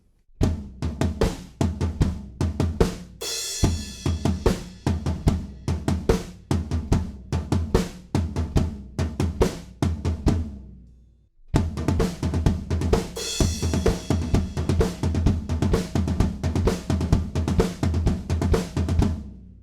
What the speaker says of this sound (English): the floor tom is playing 1 and a 2 and a 3 and a 4 and in that really gallopy kind of pattern